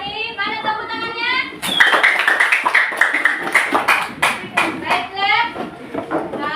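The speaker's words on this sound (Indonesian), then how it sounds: "Mana tepuk tangannya?" Schoolchildren applaud in a classroom after an action song, a rhythmic patter of many small hands rising sharply, with children's voices and chatter mixed in before and after.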